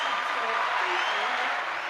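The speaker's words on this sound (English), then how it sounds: "The crowd is going crazy." A crowd at a live event applauding and cheering in a dense, continuous wash of clapping that holds steady throughout, fairly close and loud.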